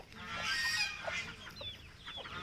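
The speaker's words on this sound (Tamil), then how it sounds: "சேவல் ஒன்று வந்து புதுசாக கொண்டு வந்து விட்ருக்கேன். இன்றைக்கி தான் கொண்டு வந்து கீழே விட்ட உடனே அது பயங்கர ஸ்பீடாக இருக்குது" A newly brought rooster of around 5.5 to 6 kilograms clucks and calls close by, a burst of loud clucking followed by softer intermittent chicken sounds with no talk.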